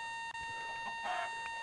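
A chicken in the Minecraft video game clucks briefly, a short burst of game-style clucks over a steady electronic background hum, with no talking.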